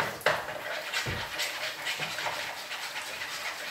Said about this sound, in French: Donc, je vais mélanger les œufs.